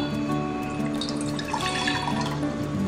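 Water runs steadily from a tap into a container while gelatin is being prepared in a home kitchen, a continuous close splashing flow with no speech throughout.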